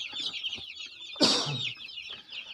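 Gramalakshmi chickens cluck softly and continuously nearby, with one louder squawk breaking out midway before the murmuring clucks resume.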